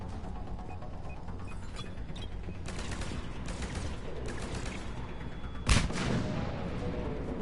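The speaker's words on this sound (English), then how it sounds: "Where are they shooting from?" Steady battlefield gunfire in the Mass Effect 3 Legendary Edition attack on Palaven, continuous rattling shots and bursts with one sharp loud crack near the end, no voices.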